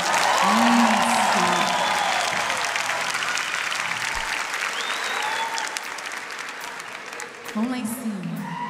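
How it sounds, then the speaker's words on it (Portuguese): Concert audience at a gospel worship show for a CD launch applauding loudly and steadily, with a voice speaking briefly over the clapping before it thins out near the end. "Quem acredita nisso, aplaude então."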